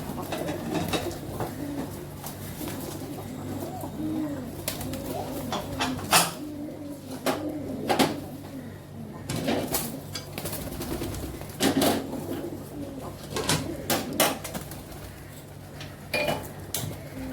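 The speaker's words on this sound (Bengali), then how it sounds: "ওইদিকে পায়রা খাবার দিয়েছি," Pigeons being fed coo softly in low repeated murmurs, with scattered clinks and knocks from nearby kitchen utensils over a quiet indoor background.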